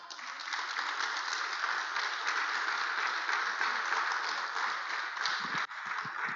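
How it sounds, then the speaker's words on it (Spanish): A church congregation applauding during a sermon, dense sustained clapping from many hands at even loudness, with a slight dip and a few louder individual claps near the end. "den un aplauso al Señor."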